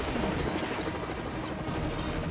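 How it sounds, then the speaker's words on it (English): Helicopter in the action video game Renegade Ops, a dense steady rotor and engine roar filling the whole stretch with busy gunfire and crashing layered throughout, loud and close without talk. "The helicopter is easier to control than the ground vehicle."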